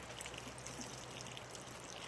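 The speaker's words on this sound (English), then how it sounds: "I'm going to put a little water on that dirt" Water is poured onto dirt to make mud, producing a soft, continuous trickling splash that stays quiet and even throughout, with no voices.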